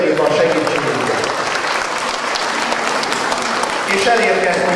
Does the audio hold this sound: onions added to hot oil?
no